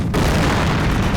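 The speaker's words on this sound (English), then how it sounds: "Armor is under shape charge attack" Shaped charge explosion striking tank armor in the Company of Heroes video game, a loud, dense boom filling the whole moment with a rumbling blast tail.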